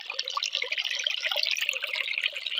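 Stored-up water trickling and dripping outdoors, a bright, busy patter of drops and small splashes running steadily and close by, with no voices over it.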